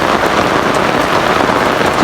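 Heavy rain beats steadily and loudly on a surface during a windy downpour, a constant dense hiss with no pauses.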